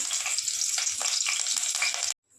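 Curry leaves dropped into hot oil for masala pulav crackle into a loud, dense sizzle with popping spatters, cutting off abruptly near the end before faint sizzling returns.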